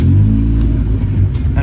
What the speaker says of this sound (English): we have to start the car.